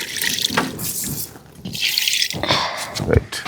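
Water is poured into a cooking pot already holding salt and spice paste, with close splashing and dripping in short bursts while people talk nearby.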